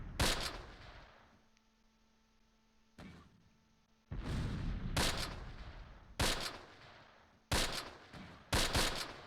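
Gunfire in Close Combat, a World War II tactical game set in foggy fighting in August 1944: repeated sharp bursts of rifle and machine-gun fire, some near and loud, with quieter gaps between volleys.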